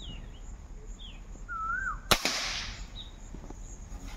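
A crossbow or air rifle fires at a target 25 metres away: one sharp, loud crack midway that decays quickly, with faint chirping birds in a quiet outdoor setting around it.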